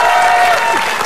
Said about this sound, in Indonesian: Tepuk tangan dong untuk saya.